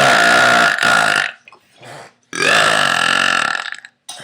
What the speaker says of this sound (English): Post-dinner burping.